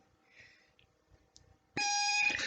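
An electronic alarm-like buzz sounds once loudly after a button is pushed, following a stretch of faint handling noises and near-silence.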